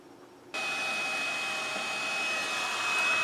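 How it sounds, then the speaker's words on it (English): A heat gun switches on and blows steadily as it warms the metal can of a faulty RF crystal. The hot-air roar starts abruptly, stays loud and close, and holds even to the end with no talking. "I have my heat source here, and I'm going to heat up the can."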